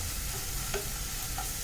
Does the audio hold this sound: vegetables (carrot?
yes